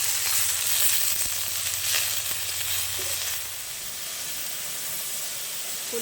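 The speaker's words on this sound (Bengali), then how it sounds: "ভালো করে আমি শাকটা নেড়ে নেবো" Kulfi sag greens, seasoned with salt and a little turmeric, are stirred in a hot pan, giving a continuous close hiss and sizzle with faint scraping, steady throughout and slightly softer in the second half.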